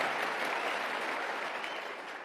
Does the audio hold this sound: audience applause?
yes